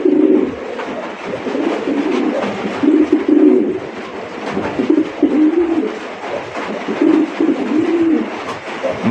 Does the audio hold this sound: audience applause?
no